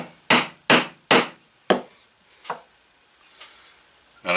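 Four sharp hammer blows drive a split wooden wedge into the handle of a vintage cobbler hammer, evenly spaced and loud, then a few lighter taps after a pause and one more strike at the end.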